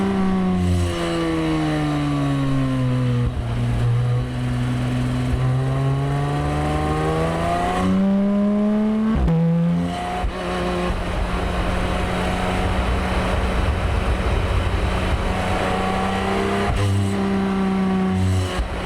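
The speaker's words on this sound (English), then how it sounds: "That exhaust don't sound the most refined. It almost sounds like there's a rattle somewhere, but it's supposed to sound like that." A Porsche 718 Cayman GT4 RS exhaust revs hard and close, rising and falling in long sweeps with a raspy, slightly rattly edge, dropping briefly before climbing again.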